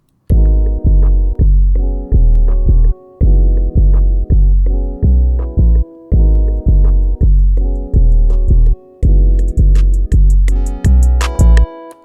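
An FL Studio beat of 808 bass, hi-hats, clap and a chord progression run through a low-pass filter, giving muffled, loud repeating chord stabs and booming bass in a steady rhythm, with brighter highs creeping in near the end.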